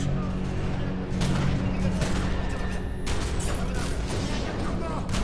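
Rapid gunfire and booming blasts from a firefight in the video game The Secret World, dense and loud throughout with bursts of shots layered over a steady rumble, while a voice talks over the action.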